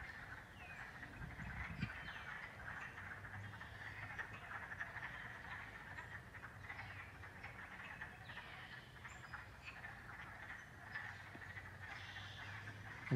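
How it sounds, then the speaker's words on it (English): A dense chorus of wood frogs clucking continuously from a vernal pond in Blandford in early April, moderately distant and fairly faint, with no voices. "Wood frogs are louder this week than they were last week."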